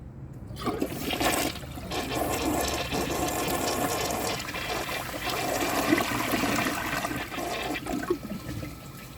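A 2005 American Standard Cadet toilet flushes with a loud rushing swirl of water that drains and gurgles, then settles into a steady refill hiss lasting several seconds, heard up close and alone.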